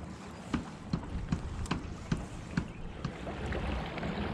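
Small boat trolling backwards on open water: a soft, continuous motor and water wash with faint wind, punctuated by light rhythmic knocks and splashes about every half second.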